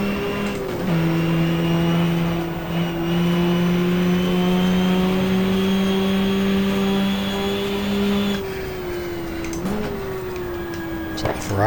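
Race cars in GTR2 at Suzuka: a loud, sustained engine drone holding steady pitch, dropping briefly as gears shift, with other cars audible around it.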